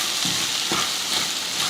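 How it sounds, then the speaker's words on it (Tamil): Okra sautéing with masala powder in a hot pan, a continuous sizzling fry with a couple of soft stirring scrapes, close and alone without speech. "அந்த மசால் பொடி போட்டுட்டு ஒரு நிமிஷத்துக்கு இந்த மாதிரி வதக்குனிங்கன்னா அந்த காயோட அந்த மசாலா வந்து கலந்துக்கும்"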